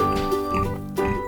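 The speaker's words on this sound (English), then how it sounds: "Pig." A pig grunts and oinks in two short, close bursts within about a second, fairly quiet and with no talk over it.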